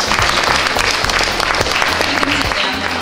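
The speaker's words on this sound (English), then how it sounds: "I'd like everyone to give you a big clap." Loud, close applause from a packed audience at an Arbonne car presentation, a continuous wall of rapid claps with a low humming tone underneath.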